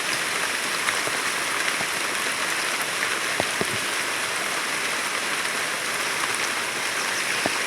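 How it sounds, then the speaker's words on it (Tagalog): Heavy mountain rain falls in a dense, loud, steady hiss with occasional close drops striking a surface. "Lakas ng ulan guys."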